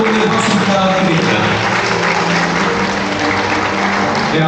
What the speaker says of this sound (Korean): 여러분 함께 박수 부탁드립니다